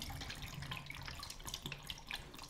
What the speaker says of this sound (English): We're gonna dump this into our tank and start developing.